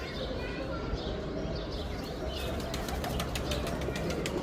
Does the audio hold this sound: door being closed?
no